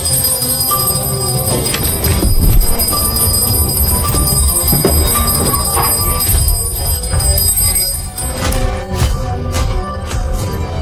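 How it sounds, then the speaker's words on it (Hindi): A bell rings during a horror-film exorcism as a demon is suppressed, with sustained metallic tones hanging over a dense, busy background of other sound. "वह घंटी बजाकर शैतान को दबा देता है।"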